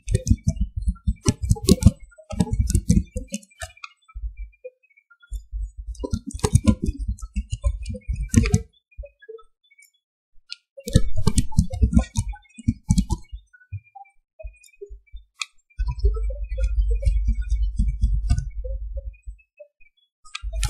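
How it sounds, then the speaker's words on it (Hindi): Bursts of rapid typing on a computer keyboard while filling in contact entries, several clattering runs of keystrokes separated by quiet pauses, close and clear. "तो कॉन्टैक्ट में सबसे पहले यहाँ पे मैं टाइप करता हूँ"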